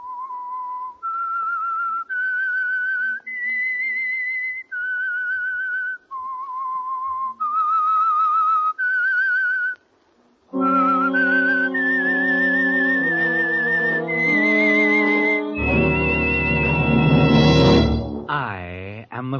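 Whistled theme signal of The Whistler, an old-time radio mystery program: a lone whistled melody of sustained notes, then an orchestral swell that builds and closes the phrase, loud and clear with no talk.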